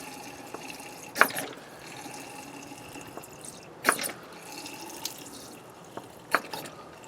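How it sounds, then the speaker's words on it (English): Diesel poured from plastic sports-drink bottles into the fuel filter of a Dodge 3500 Cummins makes faint, quiet trickling under a few distinct splashes and glugs. "you're going to want to fill it with diesel, so that way you can prime the pump"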